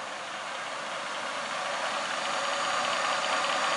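Supermax 9x42 vertical milling machine, 2 horsepower variable speed, running with a steady broadband whir and hiss that builds slightly in loudness, close and continuous, with no talk.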